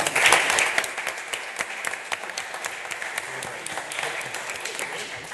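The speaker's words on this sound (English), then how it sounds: "Please give a round of applause to Jane, to Paheo, to Sara, to Mario, to Agnes, and to Martin" An audience applauds panel speakers at a landscapes and green economy discussion forum, with dense, sustained clapping that swells at first and then settles into a steady patter for several seconds.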